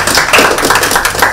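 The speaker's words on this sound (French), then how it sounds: "On peut l'applaudir." Brief burst of loud, close applause from a school audience at a read-aloud contest, dense rapid hand claps filling the whole moment with no talk.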